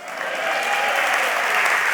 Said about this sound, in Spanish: Gracias por los que aplaudieron aquí adelante.